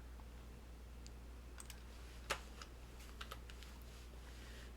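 Scattered keystrokes on a computer keyboard tap out sparse, quiet clicks over a steady low hum, with one sharper louder click near the middle.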